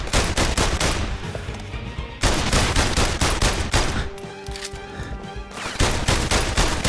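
Rapid gunfire from the PlayStation VR Worlds London Heist game, loud dense bursts of shots in quick succession, with two brief lulls between volleys and no talking.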